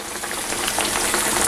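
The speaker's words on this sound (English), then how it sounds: "Lay it in there nicely." Fish frying in hot grease gives a loud, continuous hiss and sizzle with fine crackling pops, steady and close with no voices.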